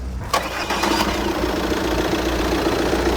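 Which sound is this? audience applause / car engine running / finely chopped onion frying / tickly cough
car engine running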